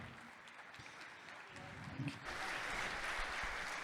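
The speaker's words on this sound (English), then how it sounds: "Big round of applause for Barry Dye." Faint talk gives way to a burst of steady audience applause that swells and continues to the end.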